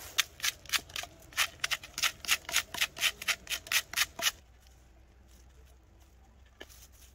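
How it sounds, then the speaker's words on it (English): Salt scraped off a squirrel hide with a blade, a run of about a dozen quick rhythmic rasping strokes up close, then near silence with one faint tap. "the next step is going to be to scrape all the salt off"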